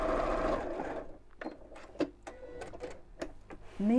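A sewing machine stitching a quarter-inch seam on fabric for a stocking, a run of steady mechanical whirring followed by a series of separate short clacking bursts, close and clear with no talk.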